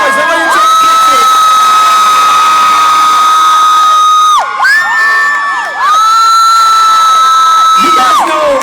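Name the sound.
crowd cheering and screaming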